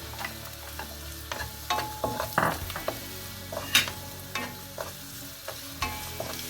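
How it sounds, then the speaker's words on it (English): Chopped onions frying in a pan as the base for Bisaya-style chicken tinola, a steady low sizzle broken by repeated scraping clinks of a utensil stirring against the pan, close by with no talk. "So we just wait till our onions get lighter brown"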